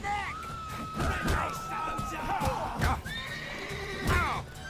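A horse in The Witcher 3: Wild Hunt whinnies repeatedly with rising and falling neighs over clip-clopping hooves, loud and close amid busy game sounds.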